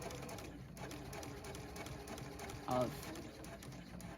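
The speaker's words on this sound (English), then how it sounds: "I'm just going to sew a row of straight stitches that goes almost to the end" A sewing machine runs a row of straight stitches along satin blanket binding on a stretch fleece blanket topper, giving a soft continuous mechanical whir at low level. A brief voice comes in partway through.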